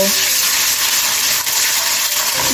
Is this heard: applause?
no